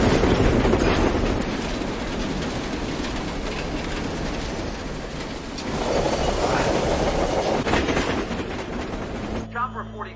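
A runaway freight train in the 2010 film Unstoppable runs hard on its rails with a loud, continuous rumbling clatter. A brief surge comes midway, and the roar cuts off sharply at the end.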